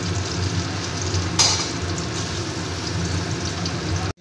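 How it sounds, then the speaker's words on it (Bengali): Potatoes and pointed gourd fry in oil with a steady, close sizzle, one short sharper crackle near the middle, then a sudden stop. "একসাথে আলু পটলগুলোকে আমি ভালো করে ভেজে নেব"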